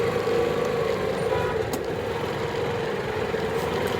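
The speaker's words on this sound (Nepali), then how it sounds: "यो ठाउँमा चाहिँ सधैँ यस्तै ट्राफिक जामै हुन्छ है गाइज" Jeeps, motorbikes and buses crawl through a road traffic jam, their engines droning in a steady, dense mix. Faint horn toots rise briefly above the rumble, and nobody speaks.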